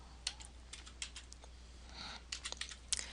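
Quick, light keystrokes on a computer keyboard entering a short word, a handful of soft clicks in uneven bursts, close and quiet with no speech.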